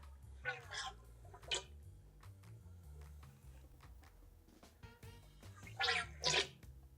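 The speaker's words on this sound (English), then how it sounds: "So I got some fork fluid here, fork oil. We're gonna fill this up." Fork oil poured into a motorcycle fork tube during a Honda Shadow fork rebuild, a faint gurgling glug heard in a few short bursts, with quiet room noise between them.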